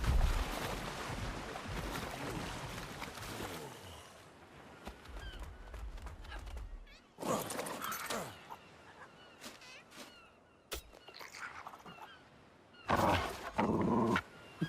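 A dog in the video game ARK: Genesis makes low growls and rough barking noises in short bursts among quieter gaps, fairly faint overall, with some sea ambience.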